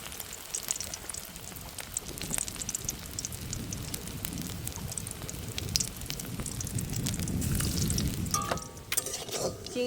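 Prawn chops fry in hot oil in a wok on a boat, giving a steady, dense sizzle and crackle that runs the whole time at close range, with a few brief knocks near the end.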